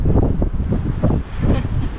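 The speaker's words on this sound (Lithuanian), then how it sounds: "Taip, pučia vėjas." Strong seaside wind buffets the microphone at a campsite in Šventoji, with a steady roar and gusty surges that swell and ease, probably with sea waves beneath.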